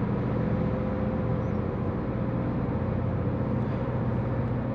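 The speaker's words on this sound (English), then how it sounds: "hear that wheel and tire noise" Steady broadband road roar from the wheels and tires of a 2023 Volkswagen Golf GTI cruising at highway speed on the Autobahn, a constant loud hum inside the cabin with no break.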